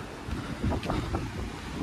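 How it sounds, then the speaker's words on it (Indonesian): Strong wind buffets the microphone at Drini Beach in Gunung Kidul, Yogyakarta, a loud continuous rumbling gusting noise with faint surf underneath and no clear speech. "Tapi anginnya gede guys."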